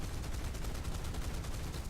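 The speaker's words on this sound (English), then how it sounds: "the friendly got a little overzealous and swept us with gunfire" Rapid, continuous automatic aircraft gunfire in the video game War Thunder, a dense rattling stream of shots, fairly faint and distant with a rumbling low end.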